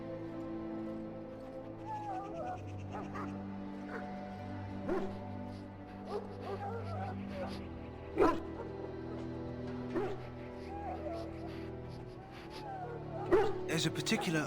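In the video game Dragon Age: Origins, an injured dog whimpers and gives short yips and barks under a sustained low musical drone, with someone talking over it.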